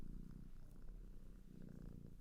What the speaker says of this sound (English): giving her purrs